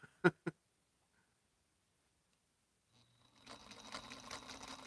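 A sewing machine stitches a quilt seam, starting after two sharp clicks and a pause, then a close, steady mechanical whirr with rapid needle rhythm continuing to the end.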